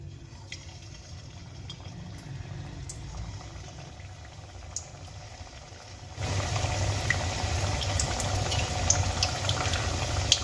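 Chhena jalebis frying in hot oil in a kadai give a steady bubbling sizzle, soft at first and then growing louder and denser with crackling pops, close up and with no talking.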